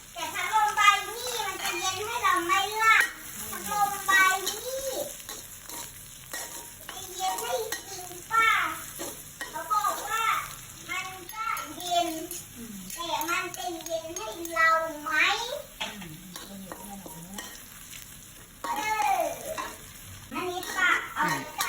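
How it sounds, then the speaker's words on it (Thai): Pounded garlic sizzles and fries steadily in a wok while someone talks over it and children's voices chatter in the background. "จากนั้นเราก็จะใส่กระเทียมที่เราโขลกลงไปนะคะเจียวค่ะ"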